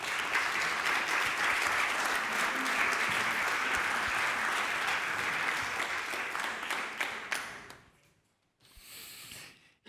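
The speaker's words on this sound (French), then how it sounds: "Et vous pouvez les applaudir à nouveau." Sustained applause from an audience at a 2023 bookshop award ceremony, dense and steady for about eight seconds before dropping off, then a brief second burst of clapping near the end.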